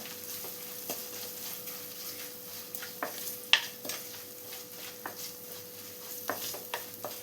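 Turmeric and chilli powder being stirred in a pan, quiet scattered scrapes and light taps of a spoon over a faint sizzle, with a steady low hum beneath and no talk.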